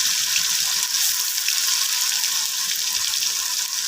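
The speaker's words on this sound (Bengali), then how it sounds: "তেল গরম হয়ে গেছে এবার দেব পেঁয়াজ বাটা দু চামচ পেঁয়াজ বাটা দিলাম" Onion paste frying in hot oil for a Bengali red chicken curry, a loud, steady, close sizzle that hisses without a break throughout.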